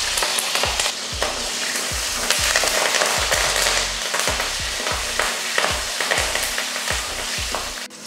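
Shallots, garlic and curry leaves sautéing in hot oil for eggplant kulambu, a steady close sizzle with repeated rhythmic scraping strokes of a spoon against the pan throughout, no voices.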